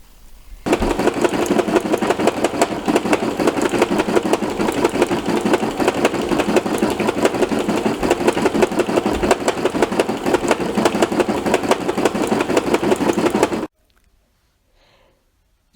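A small embroidery machine stitches a big shirt with rapid, even mechanical chatter, loud and close, running steadily before cutting off abruptly into near silence.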